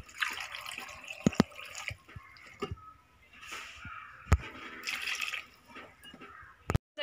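Cut jackfruit pieces being washed with water in a vessel at home, faint splashing, dripping and sloshing with a few sharp knocks of the pot, quiet and close.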